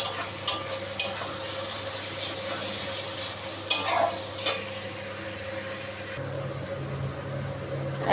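Onion and spices sizzle steadily in a pan for mutton curry, close and continuous, with occasional clinks and scrapes of a spoon stirring against the metal.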